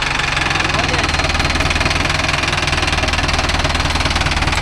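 Mahindra Arjun Novo 605 DI tractor with a rotavator in a coconut grove, its diesel engine chugging steadily and loudly throughout with a low rhythmic knock, continuous and close.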